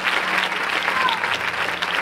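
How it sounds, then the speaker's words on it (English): Church congregation clapping hands in praise: dense, steady applause from many people filling the room, with faint voices mixed in throughout. "clap your hands one more time and give God praise"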